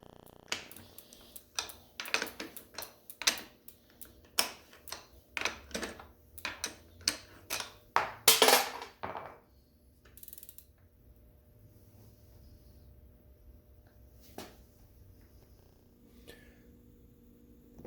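A ratchet backs out the crank arm bolt on a Cannondale Adventure bicycle with a stripped left crank, producing a steady series of sharp, close clicking strokes, a louder metallic rattle midway, then scattered faint taps in a quiet space.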